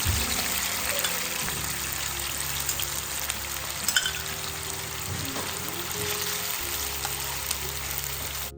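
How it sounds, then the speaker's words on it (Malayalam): Masala-coated prawns fry in a pan with a steady, loud, close sizzle and bubbling oil that runs without a break, and no one speaks. "മസാലയൊക്കെ തേച്ച് വെച്ചിട്ടുള്ള ചെമ്മീൻ ഇതാ ഫ്രൈ ചെയ്തെടുക്കുകയാണ്"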